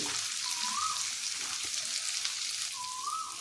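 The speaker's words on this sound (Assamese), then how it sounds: "আদা ৰচুনৰ চেনটো নোযোৱালৈকে মই এনেকৈ ভাজিয়ে থাকিম" Ginger-garlic paste with cumin powder frying in a pan, a continuous close hiss and sizzle with a faint squeak of stirring, no talking.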